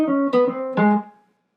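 Short swing-style jazz guitar lick, a few clean picked notes ringing out briefly and closely before fading to silence.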